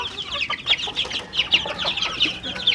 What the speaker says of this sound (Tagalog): Pakain natin dito sa ating mga ano, Rhode Island Red na mga sisiw saka Black Australorp mga kabakyard.